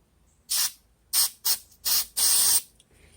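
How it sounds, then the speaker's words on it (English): Quick-drying spray is applied to a rag in five short aerosol hisses, the last one longer, close and loud with brief silences between bursts. "Spray a little bit on this rag without trying to overspray onto the trap."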